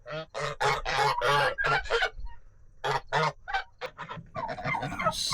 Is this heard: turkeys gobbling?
yes